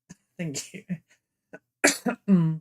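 A person building a plastic model kit coughs once, loud and close, among short bits of nearby talk.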